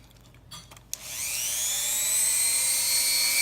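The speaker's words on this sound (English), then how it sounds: "I'm just going to go over them with the Dremel to remove any of the sharp edges" A Dremel rotary tool spins up after a few faint clicks and handling noises, then grinds steadily at a high, whining pitch while smoothing the sharp edges of a dog's trimmed nails, close and continuous with no talking.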